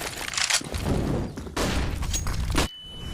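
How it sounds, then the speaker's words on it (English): Grenade blasts and gunfire crackle in a Counter-Strike esports match, with several harsh, noisy bursts separated by short gaps and ending abruptly, loud and close with no voice over them. "Saucy grenade down middle"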